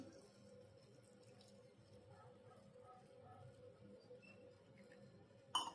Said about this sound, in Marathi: ह्याच्यात टाकते पाणी